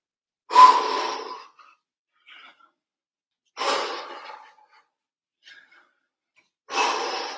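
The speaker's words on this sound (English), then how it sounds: "3 deep breaths." Three deep breaths during a relaxation exercise, each a long, close, breathy exhale spaced about three seconds apart, with faint quick inhales between them and no talking.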